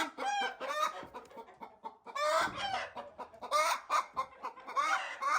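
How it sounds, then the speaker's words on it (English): Hens cluck and squawk on a farm in a series of close, busy bursts, with sharper calls from a chicken that has just been handled while collecting eggs. "Hello, hen."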